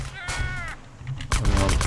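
Gunfire in a GTA San Andreas DYOM mission crackles in short bursts, with a brief pause between volleys, mixed with game ambience and a bleating animal-like sound.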